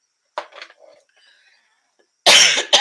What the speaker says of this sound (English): I'm coughing because I've had bronchitis since July.